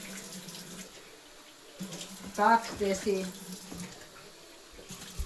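Cold tap water runs briefly into a measuring cup while dough is being prepared, a soft splashing trickle that swells for a moment under a speaking voice.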